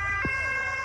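An emergency vehicle siren sounds from a police patrol arriving at a car crash scene, a brief rising wail over a steady traffic hum with no one speaking.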